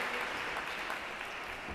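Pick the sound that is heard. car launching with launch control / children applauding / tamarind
children applauding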